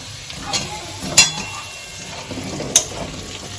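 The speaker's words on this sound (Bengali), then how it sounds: "এগুলো দিয়ে একটু সময় মানে তিরিশ থেকে চল্লিশ সেকেন্ড আমি এগুলোকে নাড়া দেব" Green, yellow and red bell peppers and onion get stir-fried in a pan for restaurant-style chilli chicken, with a soft steady sizzle broken by a few sharp spatula clinks and scrapes against the metal.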